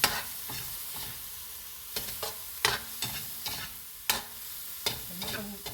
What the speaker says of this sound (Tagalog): Haluin na natin guys